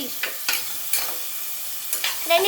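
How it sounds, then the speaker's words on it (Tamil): Ginger garlic paste and chopped tomato being stirred in a hot pan for chicken gravy, with a steady sizzle broken by several scraping spoon strokes, close and fairly loud, no talking. "டீஸ்பூன் போட்டு நல்லா கிண்டி விடணும்"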